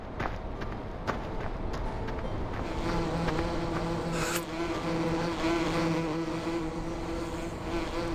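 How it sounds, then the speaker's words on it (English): Bees buzzing in the video game Farming Simulator 13, a continuous droning insect hum with steady tonal whine, mixed with background game engine and machinery noise, no talking. "I think, is this the bees?"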